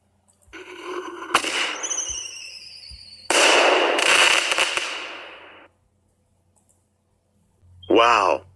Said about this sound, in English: Hey, Sapphire, can you set the firework right on your back?